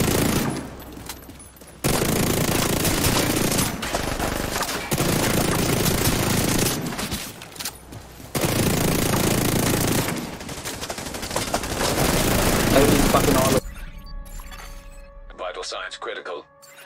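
Gunfire in The Division 2 video game: long, loud, sustained bursts of automatic fire broken by brief pauses, then a sudden drop to quieter game sounds.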